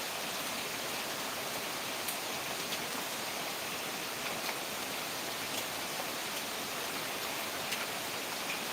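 Steady rain falling during a monsoon on a Shravan Monday in Akola, Maharashtra, a soft even hiss with occasional faint drips, constant and fairly quiet throughout.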